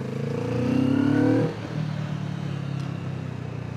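A 2025 Kawasaki Vulcan S cruiser motorcycle engine revs up steadily, then drops back to a low, even idle that carries on alone, close and fairly loud.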